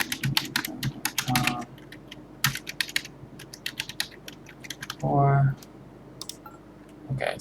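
Rapid bursts of clicking keystrokes on a computer keyboard as a password is typed, close and crisp, with pauses between flurries and a brief voice or hum partway through.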